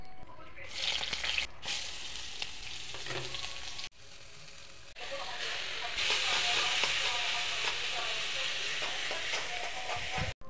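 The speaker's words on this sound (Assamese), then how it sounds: "এয়া উতলি আছে আমাৰ মেগী।" Maggi noodles boiling in a cooking pot give off a steady bubbling hiss that swells and stays fairly loud for most of the stretch, with a brief dip midway.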